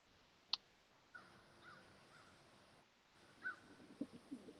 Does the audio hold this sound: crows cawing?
yes